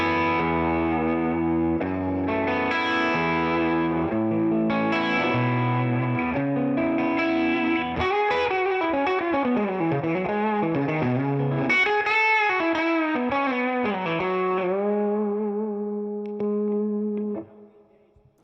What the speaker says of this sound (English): So there's all the kind of regular pickup tones you can get from this guitar with a fairly kind of edge of breakup.